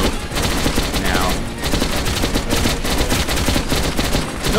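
Rapid gunfire in the video game Metro Last Light, dense continuous bursts of automatic shots, loud and close with no gaps.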